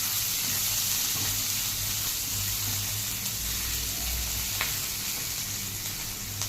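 Ginger and garlic fry in a pan for soya chunk manchurian, giving a steady, close, continuous sizzle with a few faint stirring clicks and no talk.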